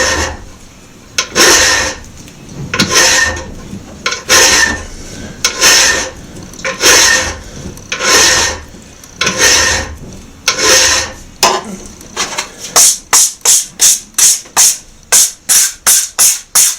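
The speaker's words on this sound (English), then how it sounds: "Clean my file again. And then I start making the plunge." Hand file cutting a plunge line into a knife blade, slow rhythmic rasping strokes about one per second, then a quicker burst of short strokes toward the end, loud and close.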